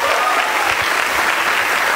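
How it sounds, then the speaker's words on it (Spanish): A burst of dense, steady applause from a concert audience of a symphonic band, many hands clapping together at an even loudness for a couple of seconds. "Un aplauso para él bien especial."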